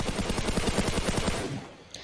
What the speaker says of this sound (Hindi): तो देखिए फायरिंग साउंड आपको भी आ रही होंगी।